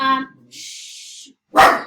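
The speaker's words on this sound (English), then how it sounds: "both my dogs are freaking out" Two dogs barking and yelping close by in a short agitated burst, a sharp loud bark at the end after a brief hiss and pause.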